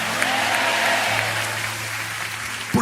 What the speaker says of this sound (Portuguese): Uma salva de palmas para a palavra de Deus.